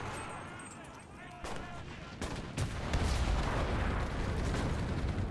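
An explosion pack blasts in the WWII shooter Enlisted, a heavy boom that swells into sustained rumbling after sharp gunfire cracks, with distant battle noise and faint speech in the background.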